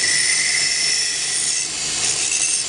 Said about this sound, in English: just to take that edge off, a nice bevel on the outside edge